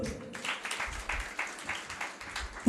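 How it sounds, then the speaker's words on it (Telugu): Guests at a Christian wedding ceremony in Hyderabad clap in a quick, rhythmic run of soft claps that sound somewhat distant and faint. "చప్పట్లు కొట్టండి"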